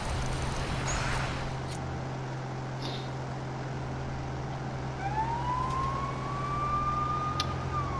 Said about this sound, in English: That's like all police cars.